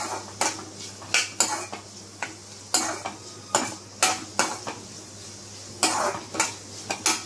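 Spinach rice being shallow fried in oil and stirred in a pan, with a spatula scraping the pan in a steady rhythm of a dozen or so strokes over a faint sizzle.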